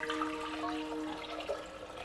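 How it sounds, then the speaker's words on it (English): Water pours into a pressure cooker holding washed dal for a South Indian vegetarian meal, giving a soft, steady splashing trickle that runs continuously for about two seconds, fairly quiet and close. "To this, I am adding water."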